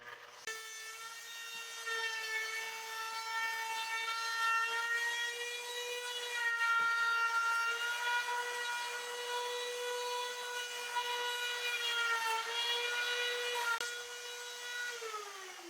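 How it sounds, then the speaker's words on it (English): A trim router fitted with a beveling bit cuts along the edges of wooden boards, giving a steady high-pitched whine with a faint rasp that lasts the whole stretch and wavers slightly in pitch, close by and with no speech. "When you're using the router, you're pushing this flush here"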